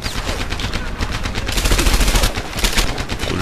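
A Thompson submachine gun rattles in rapid automatic bursts in Medal of Honor Airborne, loud and close, with heavy overlapping gunfire and no speech.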